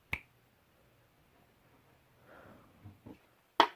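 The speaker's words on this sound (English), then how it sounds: "all I have to do is snap my fingers" A single sharp finger snap during a close-up card trick performance, crisp and near, following a faint earlier click and some quiet handling noise.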